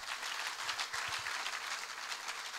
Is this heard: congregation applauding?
yes